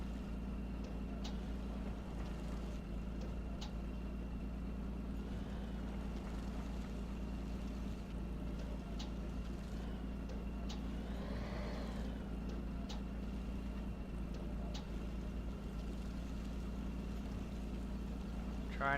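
A tractor in the Farming Simulator 17 video game drones with a constant low engine hum throughout, steady and unbroken, with faint clicks and a brief swell in the middle.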